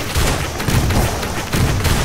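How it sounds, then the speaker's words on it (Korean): Fireworks crackling and booming from an opened item box in the game Risk of Rain, a loud, dense burst of popping blasts filling the short moment with no talk. "저 열면 같이 폭죽 나오고."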